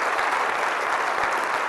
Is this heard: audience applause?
yes